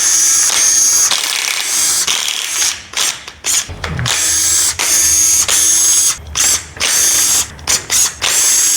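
Ratchet wrench spinning out timing cover bolts on a Ford Ranger 4.0 OHV engine, loud and close, in repeated bursts of rapid clicking separated by short pauses.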